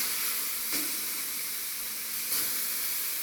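Sliced tomato roasting in a pan for Mexican drowned tortas, a steady broadband sizzle and hiss close by, constant throughout with a couple of faint bumps.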